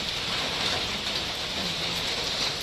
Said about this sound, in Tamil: கடவுள் பாவம் பார்த்து இந்த மழை கொஞ்சம் நிறுத்தினாருன்னா நல்லாயிருக்கும்